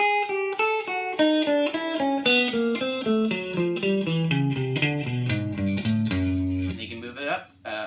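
Single electric guitar notes picked one after another in an even rhythm, a finger exercise stepping gradually downward, with a distorted, effected tone.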